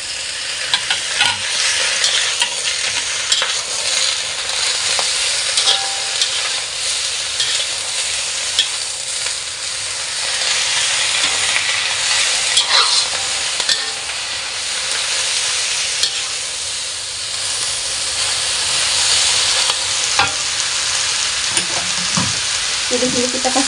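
Rice vermicelli for Singapore-style fried bihun stir-fries in a hot pan, a steady broadband sizzle running throughout with occasional scraping clicks of stirring, close and continuous.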